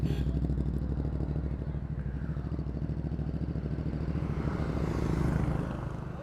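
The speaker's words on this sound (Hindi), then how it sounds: "और this is the Ducati monster." Ducati Monster motorcycle engine idling and revving at a superbike meet, a steady throbbing twin-cylinder rumble heard close up and running continuously, with faint background activity.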